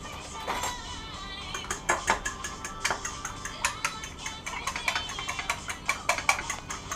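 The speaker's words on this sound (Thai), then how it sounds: "ตีไข่ ให้แตก ด้วยถ้วยคิตตี้" A spoon beating eggs in a small cup for a home-cooked dish, a rapid run of light clinking taps against the cup, close and continuous, with background room noise.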